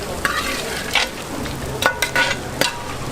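Beef fry sizzling in a pan at a toddy parlour in Kumarakam, cooked with ginger, garlic, chilli powder, pepper, garam masala and fennel. A steady hiss runs throughout, broken by several sharp metallic stirring scrapes and clanks.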